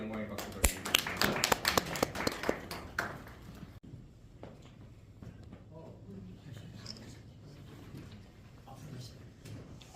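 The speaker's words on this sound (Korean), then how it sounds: "하나님께 영광의 박수 드립니다" A church congregation bursts into dense, close applause at the end of a doctoral degree conferral ceremony. The clapping lasts about four seconds, then drops away to a quiet room with faint murmurs and scattered small knocks.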